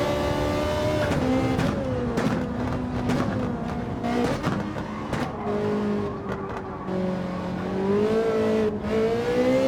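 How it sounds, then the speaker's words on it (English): A race car engine in Gran Turismo 7 roars continuously, its pitch dropping through downshifts under engine braking and then climbing again on acceleration through a corner, loud and close with brief tire noise. "using the engine braking by downshifting helped save that corner"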